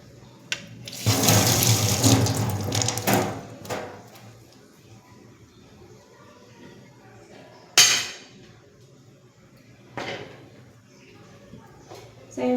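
Tap water runs into a kitchen sink as something is washed, a loud rushing burst lasting a couple of seconds, followed by faint clatters and a few brief splashes or knocks.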